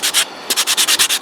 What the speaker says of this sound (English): The next step is the boring step, sanding over every one for a long time until you get the finish which you acquire.